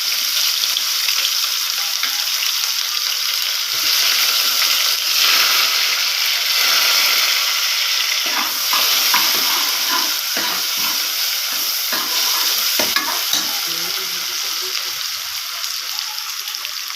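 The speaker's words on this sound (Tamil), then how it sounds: "வெங்காயம் போடுறேன்." Onions dropped into hot oil with whole spices for vegetable biryani give a loud, steady, close sizzle that runs unbroken throughout, with occasional stirring scrapes and light clatter.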